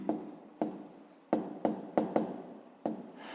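A pen scratches across paper in short separate strokes, about six quick bursts at close range with brief pauses between them and no talking.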